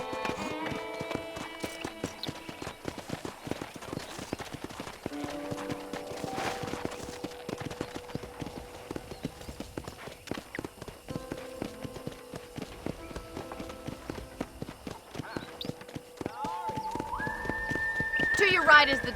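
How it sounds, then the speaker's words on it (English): Horse hooves clip-clopping and a whinny in the Western video game Red Dead Redemption, steady hoofbeats running under a game music score, with a voice speaking over parts of it and the neigh rising near the end. "I picked out a fine horse for you. Giddy up!"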